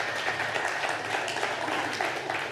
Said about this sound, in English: please join me in giving a round of applause to our fantastic guests